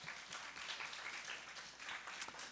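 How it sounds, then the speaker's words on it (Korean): A church congregation claps together in steady, even applause, soft and distant throughout with no voices on top. "모든 이름 위에 뛰어나신 예수 그리스도, 그 이름 앞에 영광의 박수를 올려드립시다."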